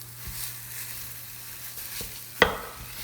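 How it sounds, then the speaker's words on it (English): Breakfast sausage browns in a cast iron skillet, a soft continuous sizzle under a low hum, with a few light scrapes and one sharp clack of a utensil against the pan near the end. "I'm gonna put it in this cast iron skillet, and we're gonna brown it up really, really well"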